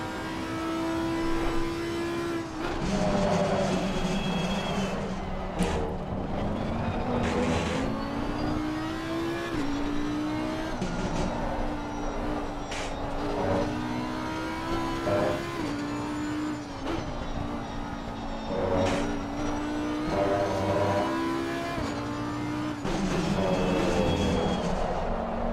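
A Porsche race car engine howls around Laguna Seca in a racing game, revving steadily and rising and dropping through gear shifts, with brief downshift blips and a constant loud drone.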